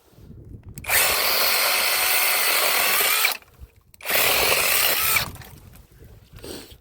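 ProCraft cordless battery chainsaw with a short bar cutting through wood, two loud sustained cutting runs of a few seconds each separated by a brief quiet gap, close by.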